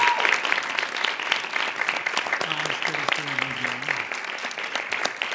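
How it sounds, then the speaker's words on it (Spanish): Sustained audience applause for award winners at a results announcement, dense steady clapping filling the whole stretch while someone speaks briefly over it partway through. "Un aplauso para todos ellos."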